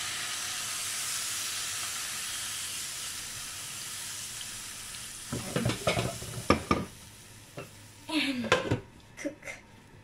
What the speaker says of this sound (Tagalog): And add water.